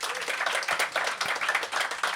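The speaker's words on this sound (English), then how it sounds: "Round of applause for our panelists." An audience at a music-industry seminar panel on A&R gives the panelists a brisk round of applause, dense steady clapping from a roomful of people lasting about two seconds.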